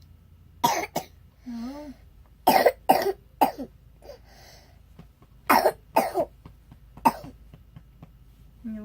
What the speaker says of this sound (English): You coughing because you're sick, or you're coughing because it's morning?